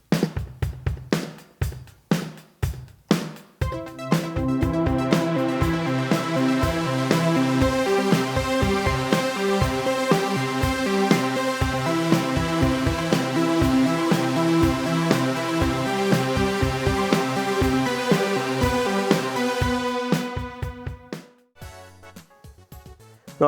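Two layered synthesizer parts, a Behringer DeepMind line with a second synth's arpeggiator running the same notes, play a dense, steady, rhythmic pattern that builds from sparse opening notes, holds evenly, then fades out near the end.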